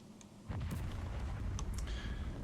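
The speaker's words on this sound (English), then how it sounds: "Mortar." A mortar shell bursts in the World War II game Second Front, a deep booming blast that jumps in at once and leaves a low rumbling roar with scattered crackles through the rest of the moment.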